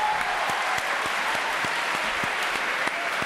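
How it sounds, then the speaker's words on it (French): Studio audience on a French television show applauding, steady crowd clapping with some sharper individual claps standing out, sustained and close. "Applaudissements, s'il vous plaît"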